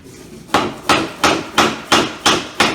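Six evenly spaced sharp knocks of a homemade mallet tapping laminate flooring during installation, each a hollow thud with quick decay, close and loud.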